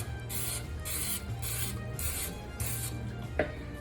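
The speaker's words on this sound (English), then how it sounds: "So I lightly spray it with some non-stick cooking spray, like so." Bursts of non-stick cooking spray hiss onto a pan in a regular series of short pulses over a low steady hum, with a small clink near the end.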